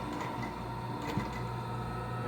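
A sewing machine runs steadily, stitching a seam in a 2005 Chevrolet Silverado rear seat cover, with a continuous close mechanical whir and no talk.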